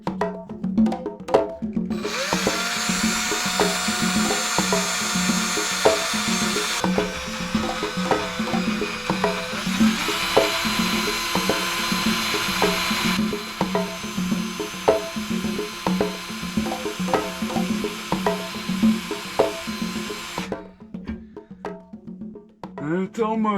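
A power drill bores a small pilot hole in steel, a sustained whining hum with grinding scrapes and a few pauses as the bit bites, with someone talking over it.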